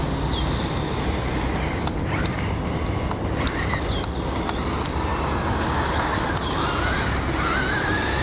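A JJRC Q45 toy RC car's loud steering servo gives short whirring buzzes and clicks, repeated several times over steady hissing background noise.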